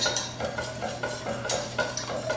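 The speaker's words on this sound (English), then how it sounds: "continue to stir it around" A spoon scrapes and stirs a thickening sauce in a pan for a chicken and broccoli casserole, with steady soft scraping strokes and faint sizzling underneath, close and moderately loud, no talking.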